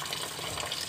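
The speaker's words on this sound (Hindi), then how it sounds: "आरो का पानी भर" Water from an RO purifier tap runs steadily into a container, a continuous close-up splashing hiss without pauses.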